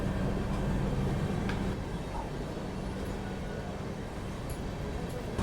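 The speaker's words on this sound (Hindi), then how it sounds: "यहाँ पे किसी ट्रेन के साथ अपना बिल्कुल पैरेलल में अराइवल जो है वो हो रहा है" Tata Itwari Express arriving on the parallel track beside a moving train: a steady broad rumble and rolling noise that stays fairly loud and even throughout, with no voices.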